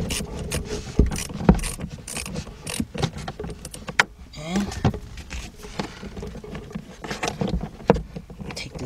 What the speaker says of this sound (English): take off the negative battery terminal. So we're going to loosen this up right here.